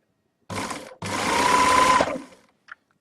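A sewing machine stitching a buttonhole runs in two bursts, a short half-second spurt and then a longer steady whir of about a second, close and alone, followed by a small click.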